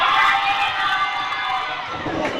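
A crowd at a Miss Curvy Picardie beauty pageant cheers and shouts loudly for a candidate, a dense sustained roar of voices that eases slightly toward the end.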